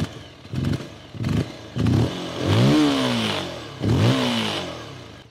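A Rieju 307 Aventura Rally motorcycle ridden off-road, its small engine revving hard in repeated bursts that rise and fall in pitch, loud and close, with short blips at first and then longer climbing pulls, no talk.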